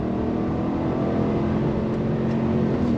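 Chevrolet Suburban Premier with a 5.3L V8 accelerating under throttle, a loud, steady engine drone heard from inside the cabin that holds for the full clip.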